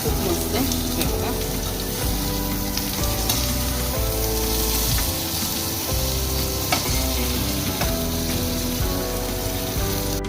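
Curry leaves sizzle and crackle loudly in hot oil while frying for a fish thali, a dense, continuous close-up spatter with stirring noises throughout.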